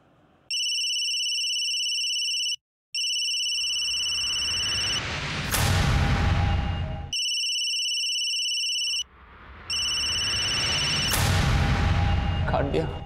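A phone rings with a video-call ringtone: steady harmonic tone bursts repeating in two long cycles, each followed by a rising swoosh and rumble, loud and close, with a brief break between rings.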